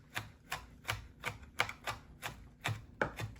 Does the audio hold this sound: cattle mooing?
no